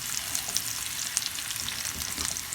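Onions frying with sage in a pan alongside pork chops, a dense continuous sizzle and crackle with light stirring, close and without speech.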